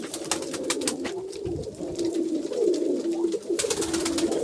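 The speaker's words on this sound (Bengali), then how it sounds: "এই দেখুন আমার কবুতরগুলা।" Pet pigeons coo in soft, repeated throaty calls close by, with scattered clicks and rustling around them.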